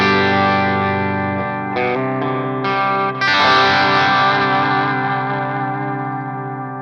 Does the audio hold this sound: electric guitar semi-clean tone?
yes